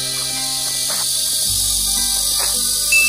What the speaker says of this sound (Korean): 매미가 오네요.